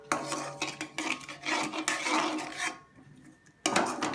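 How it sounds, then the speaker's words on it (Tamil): Metal spoon scraping and stirring flour batter in a pan while making vella seedai, close and fairly quiet, with uneven rasping strokes, a brief pause, then stirring again. "இந்த மாவை கொட்டி அதில் மெதுவாக கிளறுங்க."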